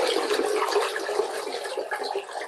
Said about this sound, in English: Now go ahead and flush your toilet to get rid of all the dye so it doesn't stain your bowl.